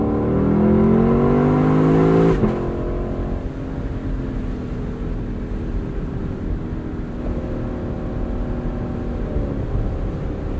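A 2021 Lexus LC 500 convertible's engine revs hard while driving, climbing loudly through the gears with a sharp shift, then settling into a steady, lower cruising drone, close and alone.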